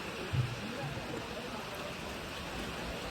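Faint, constant hiss of heavy rain falling at Kodikuthimala hill in Malappuram, with a muffled voice murmuring briefly in the background.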